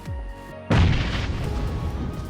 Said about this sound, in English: throw a grenade only if you think there would be an enemy